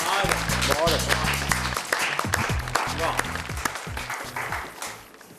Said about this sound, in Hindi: सारी जनता आपके लिए जोरदार तालियां बजा रही है।